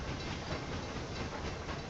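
A train rolls along the tracks in the railway management game Railway Empire 2, a steady, dense rumble with faint rhythmic clatter holding an even level throughout, with no voices.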